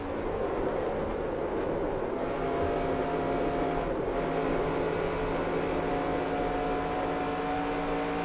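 A NASCAR Xfinity race car engine at Las Vegas in the NASCAR Racing 2003 video game drones steadily at high revs, a constant loud buzzing hum with no break.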